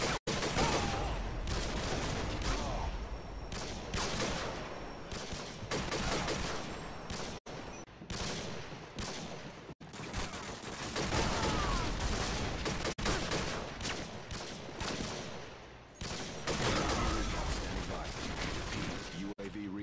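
A WA2000 rifle fires in Call of Duty: Modern Warfare 2, with rapid semi-automatic shots cracking in dense, repeated bursts separated by brief pauses, loud and close, with faint mechanical clicks.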